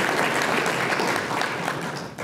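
Audience at a schools partnership breakfast applauding during a speech, a steady wash of clapping that fades slightly near the end.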